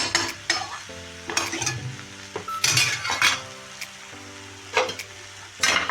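Dill greens are sautéed and stirred in a pan, with a utensil scraping and clinking against the metal in irregular strokes over a soft sizzle, close and clear with no voices.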